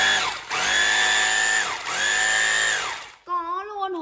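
A three-function concrete hammer drill (concrete drilling, hammer drilling and chiselling) runs loudly at close range in two long sustained bursts with a brief spin-down between them, then stops and a voice speaks.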